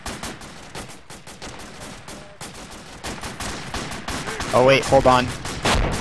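Gunfire in a team-based war video game crackles in quick bursts, growing louder toward the end, under a voice chat exchange between players.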